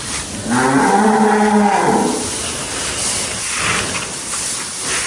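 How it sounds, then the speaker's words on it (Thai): A fattened beef cow on a Thai farm lets out one long, loud, close moo in the first half, over steady wind noise and a hissing background. "นี่ก็จะเป็นวัวขุนของเรานะคะ"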